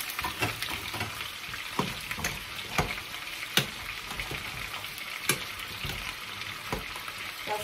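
Meat and fat fry in a pan as fat is rendered from festival meat. A steady, close sizzle runs throughout, broken by repeated scraping and stirring clicks at an irregular pace.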